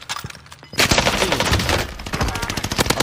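Gunfire in Call of Duty Warzone, a sudden close burst of rapid automatic shots that keeps rattling after a quieter start, with a player's voice talking over it.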